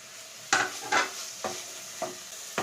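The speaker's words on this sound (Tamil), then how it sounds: "வெஜிடபிள்ஸ் சேர்த்ததுக்கப்புறமா நல்லா கலரி விட்டுக்கோங்க." A spoon stirs vegetables in a pot for brinji rice, making five separate scraping strokes over a low sizzle, close and fairly quiet, with no talking.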